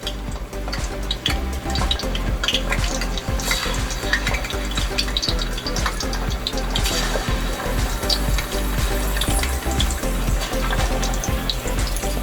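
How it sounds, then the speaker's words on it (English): Fish pieces fry in a hot pan with onions, giving a loud, steady sizzle scattered with crackles and small pops throughout. No one speaks over it. "Let's start putting our fish one after the other."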